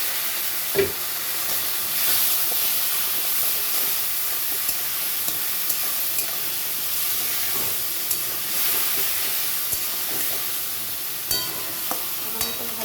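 Spice paste of turmeric, salt and green chilies cooking in a pan with a little water, a continuous hissing sizzle with occasional stirring knocks throughout, no voices.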